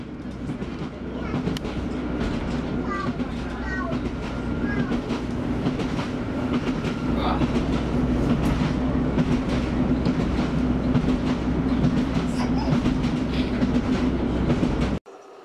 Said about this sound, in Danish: Turen mellem Dronninglund og Rørholt fulgte mange toget fra bilen.